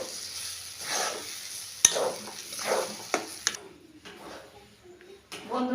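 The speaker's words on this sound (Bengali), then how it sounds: "উপকরণ ভালো করে এটাকে মিশিয়ে নেব" Salt and sugar are stirred into a pea kachori filling, a spoon scraping and mixing in a pan with soft sizzling and a few sharp clicks, nearby and moderately loud, fading quieter toward the end.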